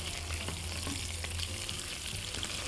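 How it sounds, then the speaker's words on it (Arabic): Garlic sautéing in a little olive oil, a steady close sizzle with faint stirring scrapes, alone without talk. "فانا كده شوحت الثوم في شويه زيت زيتون"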